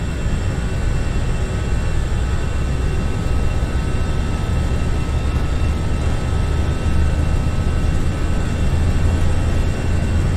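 The engines of an Airbus A320 at takeoff thrust in a flight simulator, departing Birmingham, give a loud, steady, dense roar with a low rumble that runs unbroken throughout, with no talking.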